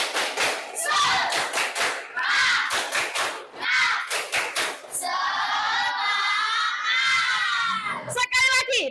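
A classroom of children on their feet doing the Indonesian 'tepuk semangat' clapping chant, rhythmic bursts of claps and shouted chanting in quick sets, then a sustained loud group cry near the end, close and lively.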